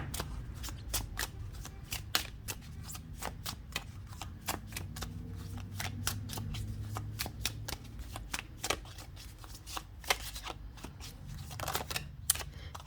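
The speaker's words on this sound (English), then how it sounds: "Let's zoom out a little for the shuffling." Tarot cards being shuffled in a dense run of crisp riffling clicks and flutters that come in quick bursts for the whole stretch, close and fairly quiet, with no talking over it.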